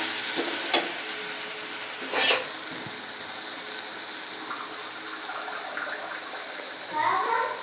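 Raichur-style brinjal curry frying in a pan, a steady sizzle with a few sharp scraping stirs near the start and clinks later, close and clear, with a person speaking over it.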